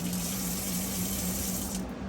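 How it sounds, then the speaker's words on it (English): Water runs steadily from a tap into an RV sink in below-zero winter weather, a close, continuous splashing rush with a faint low hum underneath. "Let's see, does our water flow?"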